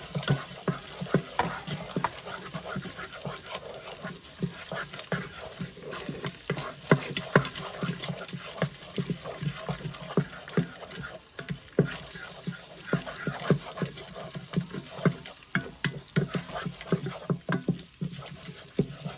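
Chana dal and curry leaves fry and sizzle in a pot while a spoon stirs constantly, giving a continuous run of scraping clatters over the crackle.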